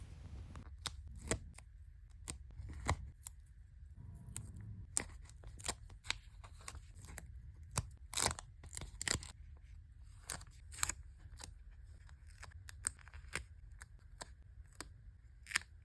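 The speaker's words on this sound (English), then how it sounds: "Here's some scrapbooking ASMR for you." Paper crafting for a notebook, with stickers peeled and pressed on, soft scissor snips, crinkling and tapping in close, quiet, irregular bursts and no talking.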